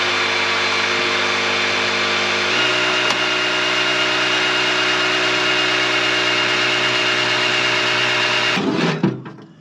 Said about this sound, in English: I'm once again gonna turn this thing over, pre-lube that filter, and start getting oil pumped up here